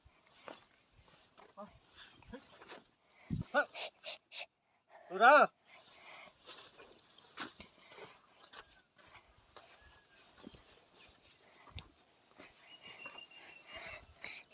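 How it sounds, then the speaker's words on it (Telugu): A dog pants close by with a short whimper, among footsteps and faint human voices on a walk toward the Velugonda Swamy temple. "కుక్క"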